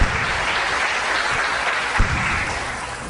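A church congregation bursts into sustained applause and cheering, a broad wash of clapping that stays loud and even throughout, with no voices standing out.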